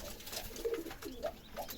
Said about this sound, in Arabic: نفتح الحمام، نأكله، نغير له المية